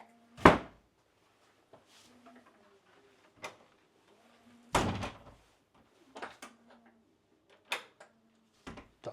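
A room door in a house in multiple occupation is opened and closed during a council inspection, giving several sharp knocks and thuds spread across the clip, with quieter handling clicks in between and no talk.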